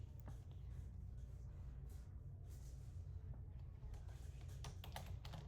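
Keys clatter in quick irregular bursts as text is typed on a computer keyboard in the Tinkercad 3D design program, fairly close over a steady low hum.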